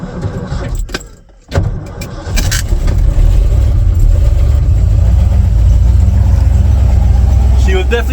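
Pickup truck engine cranking over slowly in extreme cold, then catching and settling into a loud, steady idle close to the microphone, with a rattle of keys just before it fires.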